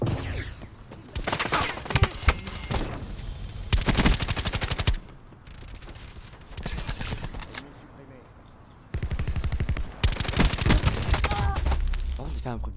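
Rapid automatic fire from the Peacekeeper weapon in Black Ops 4, loud bursts of gunfire with metallic impacts on enemies, separated by quieter stretches of game ambience.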